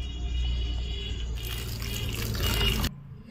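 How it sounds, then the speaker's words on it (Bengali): Cold water poured over boiled chowmein noodles in a basket over a plate, a steady close splashing rush of running water that swells louder before cutting off abruptly near the end. "এবার একটু ঠান্ডা জল দিয়ে দেব"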